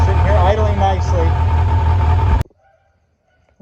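A Kawasaki Concours motorcycle engine idles in a low, steady rumble, close and loud, with someone talking over it, before the sound cuts off abruptly to near silence.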